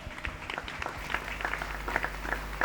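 A church congregation claps their hands in thanks during worship, a fairly soft, steady patter of many hands over a low background rumble.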